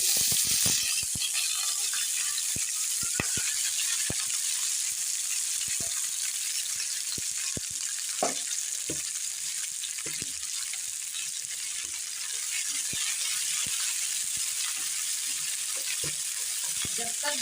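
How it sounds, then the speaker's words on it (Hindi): Okra frying in hot oil over a full flame, a constant dense sizzle and crackle with scattered pops and stirring clicks, close and loud, with no talking. "अब हम इसमें भिंडी फ्राई कर लेंगे"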